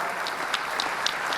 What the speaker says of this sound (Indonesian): Mari kita tepuk tangan untuk Christina dan semua anak Indonesia